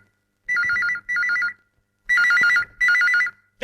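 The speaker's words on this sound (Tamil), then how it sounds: "போன் அடிக்குது, எங்கடா போயிட்ட?" A telephone rings with an electronic warbling tone in four short bursts, two pairs separated by a brief pause, loud and close with no voices.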